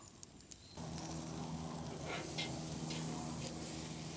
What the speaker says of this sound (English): You can hear the crisping of that nice fat that is rendering down